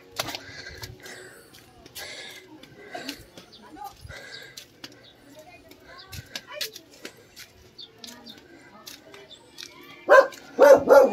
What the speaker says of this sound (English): A nice dog.